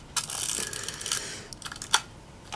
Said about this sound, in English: this is the actual shutter release here.